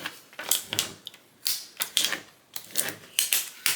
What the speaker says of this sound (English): It's a little tape dispenser. It's a cute one. I'll link it. And I'm going to put my washi tape on there.